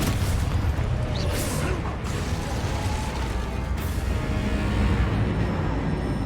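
Spell explosions and booms in the video game Hogwarts Legacy, a dense rumbling barrage of blasts and crashes under continuous game noise, with a speaker calling out spell names.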